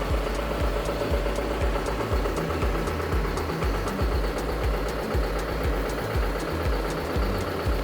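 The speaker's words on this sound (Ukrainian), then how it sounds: "Дуже тихо, гарно працює двигун." Steady low John Deere tractor diesel engine idling, a rhythmic chugging throb with faint knocking, continuous and close, with no talking.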